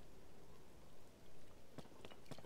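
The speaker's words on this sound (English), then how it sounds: "It's raining again." Rain falls in the video game Tears of the Kingdom as a faint, steady patter, with a few sharper droplet hits near the end and no talk.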